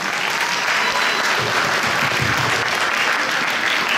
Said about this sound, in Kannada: ನಮ್ಮ ಕನ್ನಡ ಕಲಿಯೋಣ ಟೀಚರ್ಸ್ಗೆ ಒಮ್ಮೆ ಜೋರಾಗಿ ಚಪ್ಪಾಳೆ ತಟ್ಟಿ